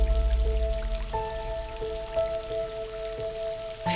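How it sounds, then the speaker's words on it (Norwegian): Icy cold rain falling outdoors by a river, a soft steady patter of drops on surfaces with a faint low tonal hum underneath, close and quiet, no voices. "Jeg velger regnet, ikke sola, men iskalle dråper som gir liv til elver."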